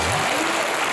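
Studio audience applause on a Hindi comedy talk show, a brief, dense burst of clapping heard alone.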